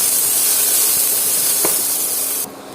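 Three dried chillies and garlic frying in hot oil, a loud, steady close hiss that continues unbroken and cuts off sharply near the end.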